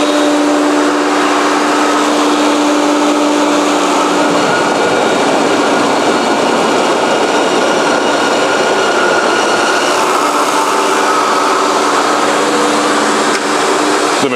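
A bandsaw cuts through a stack of twelve 1.5-inch pieces of ceiling insulation with a loud, steady roar and whine that holds unchanged from start to finish.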